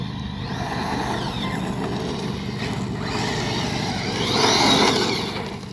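A Redcat Valkyrie MT RC monster truck races across rough ground, its electric motor whining and rising in pitch as gravel scatters, a continuous noise swelling louder near the end.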